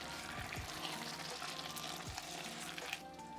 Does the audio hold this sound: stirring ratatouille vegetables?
yes